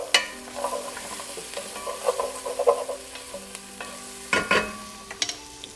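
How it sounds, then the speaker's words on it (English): A spoon stirs curry frying in a pan, with scrapes and clinks over a soft sizzle, close and without talk. "Give that a quick stir."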